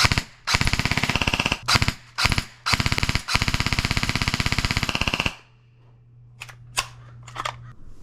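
An airsoft gun fires in rapid full-auto bursts, several strings of fast clattering shots close by with brief pauses between them, ending with a few scattered clicks and handling noises.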